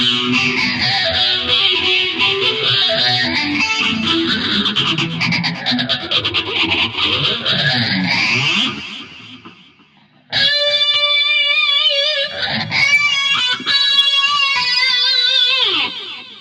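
Gibson 335 electric guitar through a Roland GP-8 processor with all effects engaged: a sweeping, phasing distorted wash, a brief drop-out, then sharp, ringing processed notes with pitch-shifted overtones.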